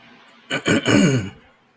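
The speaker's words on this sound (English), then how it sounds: "that's why I cough" A person who had throat surgery clears their throat in two or three short, rough bursts, close and fairly loud, then trails off into quiet breathing.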